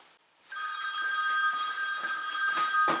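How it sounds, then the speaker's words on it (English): A mobile phone rings indoors at home, a steady bright electronic tone starting after a brief pause and continuing loudly to the end. "My phone's ringing."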